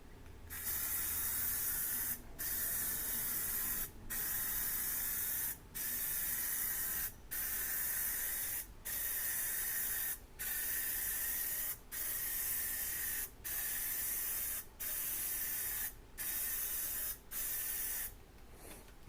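Plasti Dip sprays onto a helmet in about a dozen steady hissing passes of roughly a second and a half each, evenly spaced by short breaks, close and continuous with no talking.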